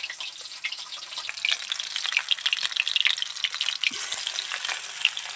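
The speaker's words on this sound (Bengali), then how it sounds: "শেপ দেওয়ার পর চিকেনগুলোকে তেলে ছেড়ে দিচ্ছি।" Shaped chicken tikka pieces hit hot oil and fry, a bright crackling sizzle with popping spatters that swells as more pieces go in, with a brief splash partway through.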